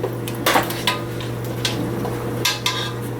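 A utensil clinks and scrapes against a bowl while eggs and pepper are mixed into gluten-free stuffing, giving irregular sharp knocks over a steady low hum.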